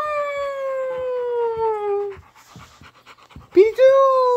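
A dog pants in quick breathy bursts, framed by a long drawn-out howl-like whine before and a short yelping whimper after, close and fairly loud.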